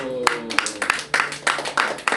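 A church congregation claps in a brisk, roughly even rhythm, about eight sharp unified beats ringing out in the hall, with faint voices and a brief tone at the start.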